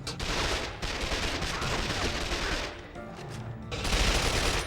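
Sustained gunfire from the PS2 version of 007 Quantum of Solace at the Eco Hotel, a dense, loud rattle of automatic shots and bursts that keeps going throughout, dipping briefly and then swelling again.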